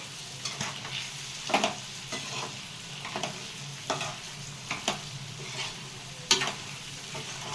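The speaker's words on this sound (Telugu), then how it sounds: "చూద్దామండి, మనకు బాగా ఫ్రై అయింది." Liver frying in a pan, a steady soft sizzle broken by repeated scraping stirs at an uneven rhythm, close and fairly quiet, with no talking.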